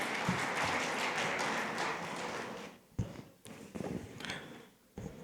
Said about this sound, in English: Can I have a big round of applause for Vijaya Mohan?